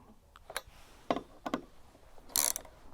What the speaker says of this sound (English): Just don't go too crazy tightening this bolt.